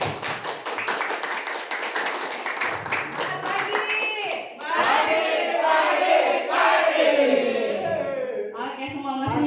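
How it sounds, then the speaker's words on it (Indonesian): An audience at a team-building training event claps and cheers, rapid overlapping clapping with shouts and whoops rising in the second half, close and lively, with voices mixed in throughout. "Beri tepuk tangan dong."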